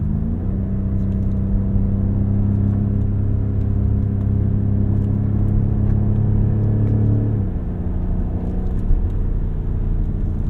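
A 2021 BMW F90 M5 engine hums steadily from inside the cabin, its tone holding and then shifting down through the 8-speed automatic, a constant low drone close by.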